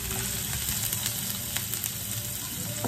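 Onion and garlic frying in a pan, a steady close sizzle with crackling pops that continues without a break and with no talking.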